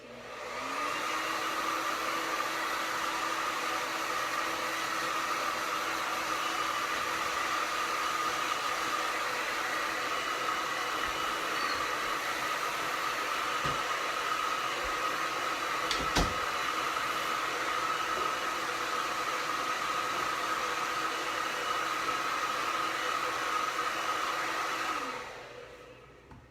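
A hair dryer blows steadily to dry paint on a craft ornament, a close, even whooshing drone that runs unbroken for about twenty-five seconds before switching off.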